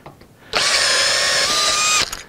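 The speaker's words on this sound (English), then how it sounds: "We're just going to drill each of these" A power drill bores out existing holes to a quarter inch on a mini CNC build in a workshop: one steady, loud whine of about a second and a half that starts and stops abruptly, with no talk.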